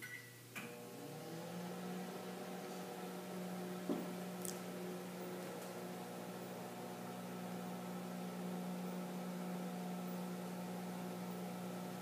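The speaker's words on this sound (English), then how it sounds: "I will put it back in the microwave for a few more seconds" A microwave oven hums steadily throughout, a constant drone with faint clicks near the start.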